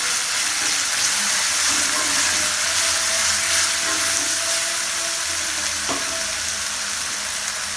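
Mint and coriander leaves fry in a pan for coconut milk ghee rice, giving a steady, close hiss of sizzling with a few faint stirring scrapes and one sharp tap near the end.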